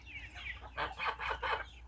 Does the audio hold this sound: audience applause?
no